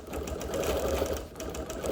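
Sewing machine quilting a show quilt, a steady close rapid stitching hum with a fast regular rhythm throughout.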